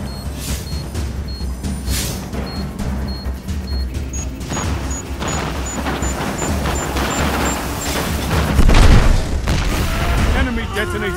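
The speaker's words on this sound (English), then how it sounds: "Enemy detonated the charge." Detonated charge exploding in a Destiny 2 Crucible match, heavy booms and crashes mixed with gunfire and beeping tones, building to a louder blast near the end while voices talk over the action.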